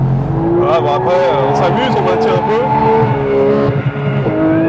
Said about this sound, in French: c'est le bruit du moteur qui lui gueule et répond vraiment bien